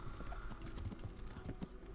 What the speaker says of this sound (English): We'll grab our horse just in case it's a longer ride.